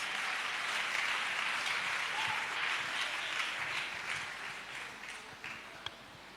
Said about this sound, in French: Let's clap for Jesus Christ.